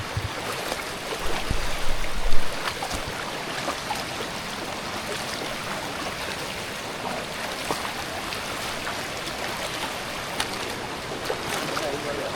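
Steady broadband rush of a hill river swollen by overnight rain fills the whole stretch, close and loud, with faint thumps early on.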